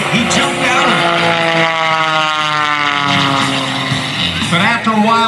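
An aerobatic airplane at the Blue Angels Homecoming air show roars loudly and close, its engine pitch shifting as it pulls up sharply, with an announcer speaking over the noise.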